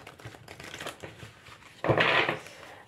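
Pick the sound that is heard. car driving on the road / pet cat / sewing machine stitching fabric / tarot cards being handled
tarot cards being handled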